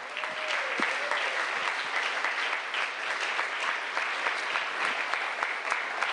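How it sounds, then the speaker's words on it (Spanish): Sustained loud applause from a large congregation at a religious service, dense clapping continuing steadily throughout. "Den el aplauso fuerte al Eterno."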